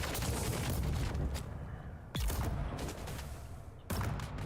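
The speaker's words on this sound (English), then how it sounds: "The sentry gun." Sentry gun fire in Dune Awakening, heard as bursts of rapid shots with booming thumps and a sharp crack in the middle, dense and fairly close over a continuous rumbling backdrop.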